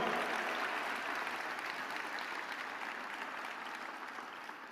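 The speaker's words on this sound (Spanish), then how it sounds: "Dale un aplauso a Dios más grande." A congregation claps together through a Sunday church service, a steady dense wash of applause that holds at an even, loud level and tapers slightly toward the end, with no voices standing out.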